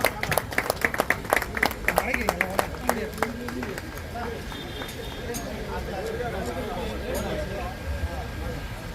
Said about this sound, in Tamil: கரகோஷத்தை எழுப்புமாறு கேட்டுக்கொள்கிறோம்.